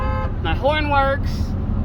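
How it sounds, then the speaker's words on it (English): Horn of a 2009 Chevy Silverado pickup sounds in one short honk of about a second, clear and close over low cabin road noise. "My horn works."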